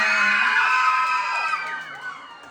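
A crowd at a beauty pageant cheers and shouts loudly and steadily, with high excited voices, the roar easing slightly toward the end.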